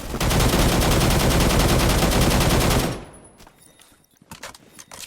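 Sustained automatic gunfire in a video game rattles loud and rapid for about three seconds, then cuts off, leaving scattered faint clicks and small impacts.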